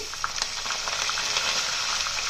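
Mustard seeds, cumin, curry leaves and ginger-green chili paste sizzle in hot oil for a Telugu raw banana curry, a steady close hiss with faint crackles and no talking.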